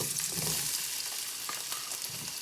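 Cherry tomatoes frying in a few tablespoons of hot olive oil, giving a dense, steady sizzle with faint stirring crackles throughout, close and unbroken.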